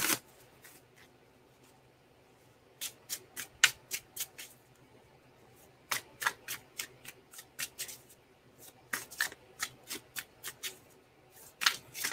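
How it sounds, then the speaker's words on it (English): A deck of tarot cards is shuffled by hand in quick crisp riffling bursts, pausing and repeating many times, close and clear with no talking. "I took a long time shuffling"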